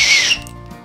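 A short, shrill blast from a small plastic whistle attached to an inflatable boat's life jacket. It is loud and close, lasts about a third of a second, then cuts off into near silence.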